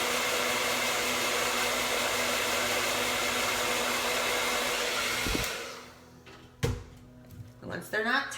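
A blow dryer on its cool setting whooshes steadily and loudly up close, then switches off, followed by a few knocks and faint handling sounds.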